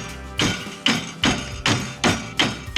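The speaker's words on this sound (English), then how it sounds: "Hit it with a hammer" A hammer strikes a winch seven times in an even rhythm, each blow a sharp, close metallic thud with a short ring. No one talks.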